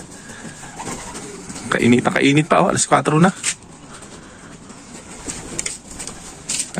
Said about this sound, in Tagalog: yung ating mga ibon.